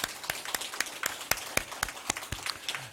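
A church congregation at a Sunday morning service clapping in thanks to God, a short burst of scattered, uneven handclaps from a modest crowd, fairly quiet and with no talking over it.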